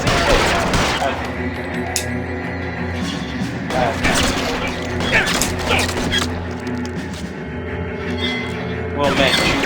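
Gunfire rattles through a shootout in the video game LA Noire, bursts and crashes scattered across the stretch amid busy mechanical game noise, with a voice talking over it.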